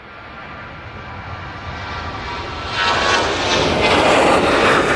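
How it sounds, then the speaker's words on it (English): Ryanair jet bound for Faro on its takeoff roll at Manchester Airport, a steady engine roar heard from a distance that swells louder and brighter as thrust builds, with no talk. "Ryanair to Faro now on the roll."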